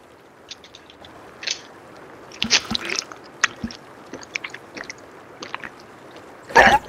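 A video game character drinks water over and over, producing a series of short wet gulping and squishing sounds scattered irregularly, ending in a louder burst.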